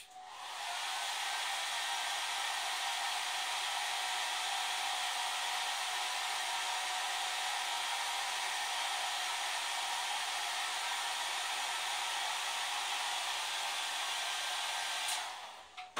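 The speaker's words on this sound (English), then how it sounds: "Get the hairdryer on it again." A hair dryer blows continuously with a steady, loud whooshing hiss that runs unchanged for a long stretch before cutting off near the end.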